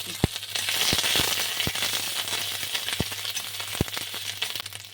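Whole cumin and ginger paste sizzle in hot oil in a pan with bay leaves, a steady bright frying hiss broken by a few sharp pops and crackles, close and continuous with no talking.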